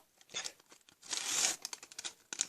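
A Harry Potter trading card pack is torn open by hand, with short bursts of ripping and crinkling foil wrapper that swell into a longer tear in the middle, close and crisp.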